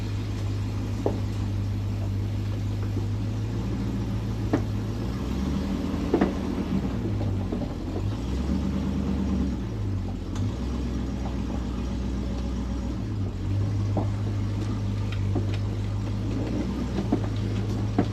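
A Range Rover Classic overland rig with newly fitted radius arms runs and rolls slowly along a driveway, its engine a steady low drone with shifting tones and a few faint knocks, no voices.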